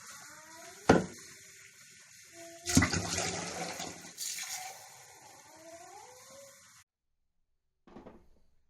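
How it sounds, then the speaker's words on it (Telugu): A household water tap runs while hands are washed, giving irregular bursts of splashing and rushing water, then a pause and one short final splash. "నేను చేయి కడుక్కొని వస్తాను."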